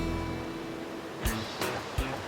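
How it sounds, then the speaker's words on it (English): Water of the Teshio River in Hokkaido flows strongly through rocks, a steady broad rushing noise, with a few sharp thuds breaking in near the end. "They decide to go through the rocks where the water is flowing down strongly"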